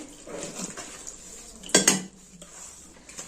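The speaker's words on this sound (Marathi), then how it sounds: "आता हे छान पीठ फेटून घ्यायचं आपल्याला कालवून ठेवायचे" Rice batter is whisked in a bowl with soft scraping and stirring at low level, then a brief sharp clink of utensil against the bowl.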